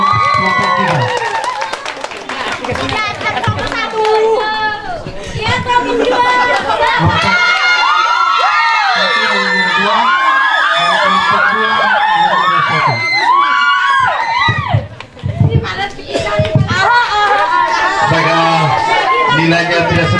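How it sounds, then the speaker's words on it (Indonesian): High school students at a leadership training event applaud and cheer for a group, a dense crowd of clapping, shouting and lively chatter that rises and falls across twenty seconds, briefly dipping before swelling again. "Mari kita berikan tepuk tangan untuk kelompok 3."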